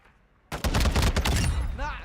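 Gunfire in a first-person shooter video game. After a brief quiet start, loud overlapping bursts of shots rattle in rapid succession for over a second, and a short voice-like sound follows near the end.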